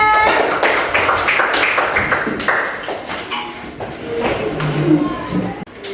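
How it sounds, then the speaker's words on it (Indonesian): A classroom of students claps for a group after their presentation, a dense patter of hand claps that runs steadily for several seconds, with voices mixed in. "Tepuk tangan untuk kelompok 3."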